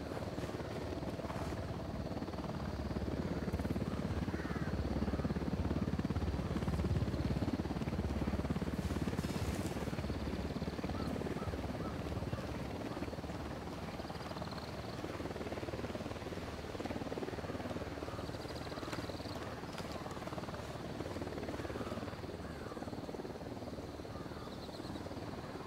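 A military helicopter in Ghost Recon Wildlands approaches with a heavy, steady rotor rumble that swells and holds over a long stretch, dominating a quiet outdoor ambience with no talking.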